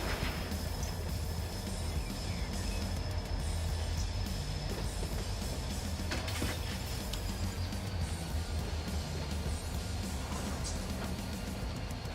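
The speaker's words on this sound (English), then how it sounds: "when I go by those reefer cars, I can hear the compressors running" Refrigerated railcar compressors droning in the train simulator Run 8 at a rail yard, a steady low hum with a faint high whine running unchanged throughout, joined by a few light clanks.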